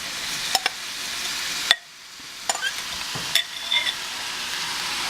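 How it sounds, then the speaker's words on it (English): Food sautéing in a pan with a light, even sizzle, punctuated by sharp clicks and scrapes of a utensil being stirred, with a brief hush partway through. "Yep, we've got to saute."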